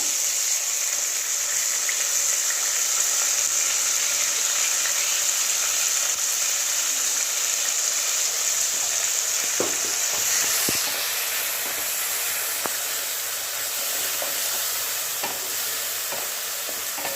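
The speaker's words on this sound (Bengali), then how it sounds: "চালমগজ পোস্ত আদা কাঁচা লঙ্কাটা একটু ভাজা হয়ে গেছে" A ground spice paste of cashew, melon seed, poppy seed, ginger and green chili fries in oil with a steady, close sizzle. A few light clicks of stirring come near the end, and nobody speaks.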